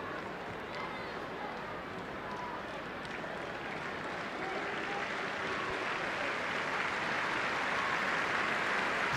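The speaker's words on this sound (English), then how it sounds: "The City Stadium applauds the Scotland #1 off the field." A stadium crowd applauds as the Scotland Under-21 goalkeeper leaves the field injured during a Czechia versus Scotland U21 EURO qualifier, with a distant, steady wash of clapping that swells slightly toward the end.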